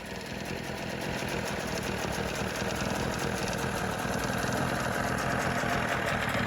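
A boat engine idles steadily and fairly loudly, a constant low rumble with a faint mechanical chug and no voices.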